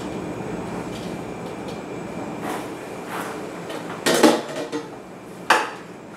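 Shaggy bread dough gets scraped out of a bowl onto a floured cutting board, a low rumbling scrape followed by a few sharp clattering knocks of bowl and utensil, close up and without talk.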